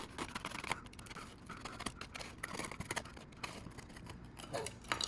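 Scissors snipping through balloon or paper material while building a giant mosaic balloon number, a steady run of close, crisp cutting clicks with no talking.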